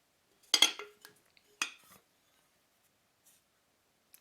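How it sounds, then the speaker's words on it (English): A Le Creuset stoneware butter dish lid in coastal blue clinking against its base: two short, bright ceramic clinks close up, followed by a couple of faint taps in near silence. "I'm holding it rather firmly in my fingers, and you can hear the noise that it makes, very clinky"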